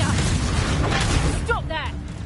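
Confringo explosion spell in Hogwarts Legacy, a loud booming blast amid a chaotic wizard duel with layered crackling effects, a voice shouting near the end.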